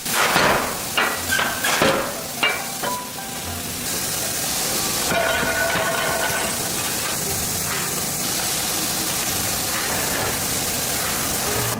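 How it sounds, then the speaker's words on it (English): Heated steel is forged into golf club heads, with a quick series of sharp metallic hammer strikes at first, then a steady hissing, spraying wash as the metal cools, in a noisy factory setting. "Then, the steel is forged and slightly cooled."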